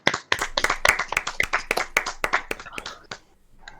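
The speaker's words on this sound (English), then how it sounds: "Give yourselves a good little applause." A small group claps for a few seconds, quick and uneven, close by, tapering off near the end.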